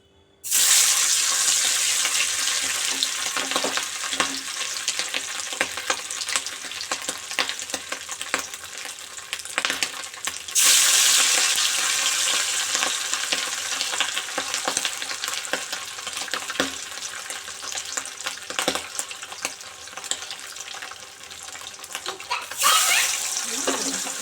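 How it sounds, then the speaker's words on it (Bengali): Hilsa fish pieces frying in hot oil in a home kitchen, a loud, steady sizzle and crackle that runs continuously, with brief stirring or turning noises and a slight break midway. "তেল গরম হয়ে গেছে, এবার আমি মাছগুলো ভেজে নেব।"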